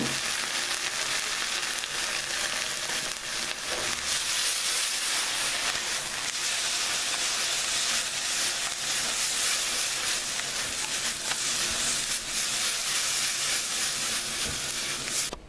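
Bell peppers sizzle in a pan after tomato juice is poured in for a healthier chimichanga, a loud, steady, bright hiss and crackle of frying that carries on without a break.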